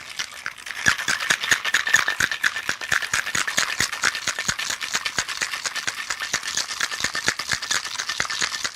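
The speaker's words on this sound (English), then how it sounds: "I want this shot chilled, so I'm going to shake it up and get it nice and cold." Vodka shot being shaken hard in a cocktail shaker, a fast steady rattle of ice knocking inside the tin for about nine seconds, close and loud with no talking.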